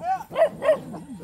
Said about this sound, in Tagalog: may mga alaga siyang aso dito.